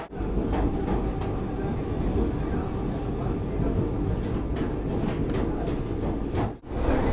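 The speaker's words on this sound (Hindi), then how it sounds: "अब हमारी वंदे भारत चल रही है बिल्कुल ऑन टाइम" Vande Bharat Express train running on time, a continuous loud rolling rumble with faint rhythmic clatter throughout and a brief dip in noise near the end.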